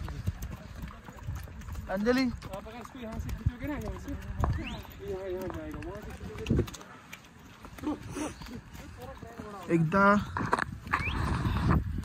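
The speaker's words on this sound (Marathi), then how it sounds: "थोडे घोडे स्लिप होतात" Horses clop over frozen mud and snow on a trail in Pahalgam, Kashmir, hooves thudding irregularly nearby while people talk over them.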